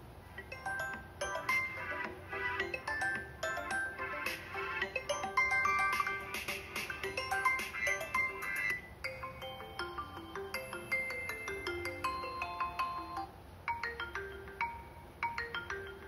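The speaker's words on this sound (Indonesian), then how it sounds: "kita coba keluaran speaker dari Vivo V20 2021 ini untuk memutar ringtone ya" A bright, chiming electronic ringtone plays from the single speaker of a Vivo V20 2021 phone, tinkling notes in a steady repeating pattern, moderately loud with no talking.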